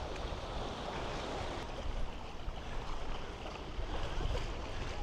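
Sea surf washes and churns around a wader's feet on Nai Han Beach as they step from a shallow river mouth toward the sea, a steady broadband rush with some wind buffeting, close and continuous.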